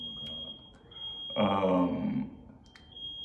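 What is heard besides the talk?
smoke alarm beeping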